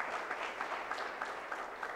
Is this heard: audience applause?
yes